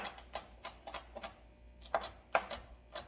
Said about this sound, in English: I'll make like 3 or 4 slices down the middle, and then I'll just cut them small like this.